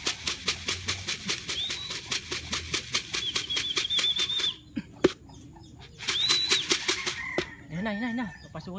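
Racing pigeons arrive at the loft with a rapid flutter of wings, then a short pause before more flapping, accompanied by occasional clicks, soft cooing and a brief knock.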